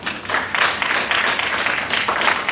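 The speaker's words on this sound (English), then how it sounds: "So give them a round of applause." An audience claps steadily in a crowd, a dense burst of applause lasting a couple of seconds with a brief swell near the end and no speech.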